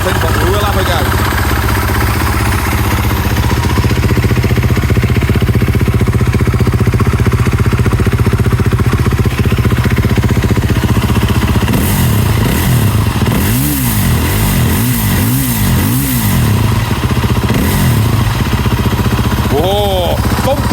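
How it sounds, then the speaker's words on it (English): BMW G450X enduro motorcycle's 450 single-cylinder engine idling with a loud, close thumping rumble, then several rising and falling revs in a row, with someone talking over it at times. "Nice big thumping 450 big old single"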